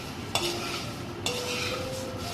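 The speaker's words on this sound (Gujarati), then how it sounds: "પછી એને બધું સરસ રીતે મિક્સ કરી દેવાનું" A spoon stirs a roasted poha chivda mixture in a metal pan, two sharp scraping clinks over a soft continuous rustle and faint sizzle.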